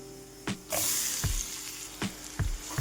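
Tomatoes cook with chilli powder, garam masala and salt in a pan, a loud close hiss rising after a clack and then going on steadily, marked by several thuds and scrapes of a spoon.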